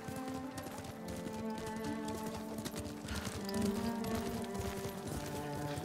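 Hooves clip-clop in a fast, steady galloping rhythm in the video game Ghost of Tsushima, the horse sounding close while a faint musical backdrop plays underneath.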